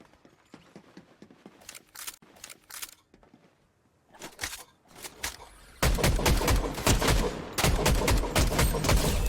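Gunfire from a new weapon in the video game Fortnite crackles in sparse single shots and short bursts, then erupts into loud, continuous rapid firing.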